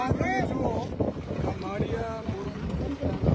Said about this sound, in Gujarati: આ ટ્રેક્ટર બંધ કરી દે.